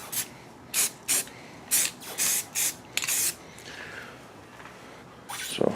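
Short bursts of aerosol spray paint hiss onto bare spots of a new rear car bumper under a heat lamp, about seven quick sprays of varying length with gaps between.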